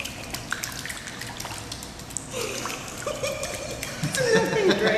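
A baby splashes water in a pool on a first swim, with small irregular splashes and trickles that build louder toward the end, while adults talk and coo close by.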